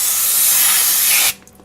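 A single continuous hissing blast from an aerosol spray can on Mitsubishi Eclipse front brakes, close and loud, cutting off abruptly after about a second.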